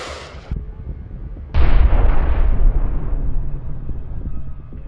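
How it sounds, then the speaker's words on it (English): A previously hit Russian tank explodes: a sudden heavy blast erupts after a brief quieter stretch, then a broad roaring rumble lingers and slowly fades, loud and fairly close. "another previously hit Russian tank exploded, triggering a massive blast"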